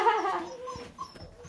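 Puppies whimpering close by: a cluster of high, whiny yelps at first, then scattered soft whimpers and small rustles that fade toward the end.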